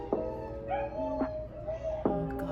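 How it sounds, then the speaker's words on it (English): A dog indoors gives a few short barks and yips, three distinct bursts spread over a couple of seconds, moderately loud against a quiet room. "the dog's making noise"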